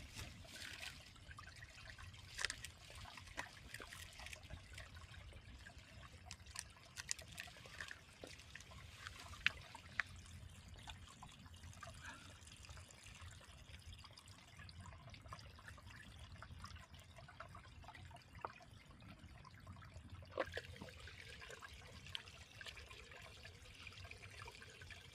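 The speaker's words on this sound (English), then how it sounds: "you've got water kind of running right down through here" Small stream of water trickling through a sheltered woodland spot, a faint continuous burble with scattered soft splashes and drips, steady and quiet throughout with no voices.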